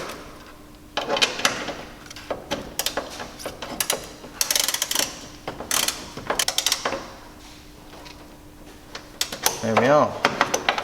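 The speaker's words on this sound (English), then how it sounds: "So now I'm just going to use a socket to do it up tightly." Socket wrench ratcheting a bolt tight on a JL hood latch fitted to a Jeep Wrangler JK, bursts of close metallic clicks separated by pauses and small clanks, ending in a quicker run of clicks.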